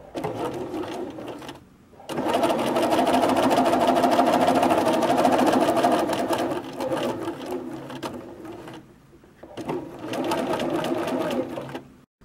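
A BERNINA sewing machine stitches hexagon patchwork pieces in rapid whirring runs, first a short burst, then a long steady run, then a final burst, with brief quiet pauses between them.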